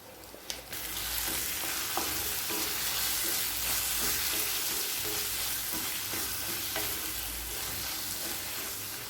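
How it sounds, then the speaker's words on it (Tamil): Chili powder, turmeric, coriander powder and garam masala sauté in a hot pan for chicken gravy, giving a steady close sizzle with repeated stirring scrapes and clinks throughout. "இப்போ மிளகாய்த்தூள் வாசனை போக 1 நிமிஷம் வரைக்கும் நல்லா வதக்கிக்கலாங்க"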